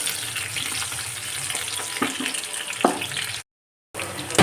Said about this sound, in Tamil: நல்லா எண்ணெயில் கொஞ்சம் இப்போ தான் லேசாக வதங்கிருக்கு